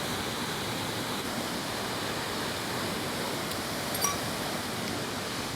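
The Moonlight Waterfalls send up a steady, dense roar of rushing water outdoors. The wash of sound is continuous and even, with no pauses and no talk.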